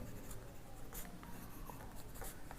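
A pen scratches across paper while a maths solution is written out, a steady close scratching with small strokes and taps and no talking.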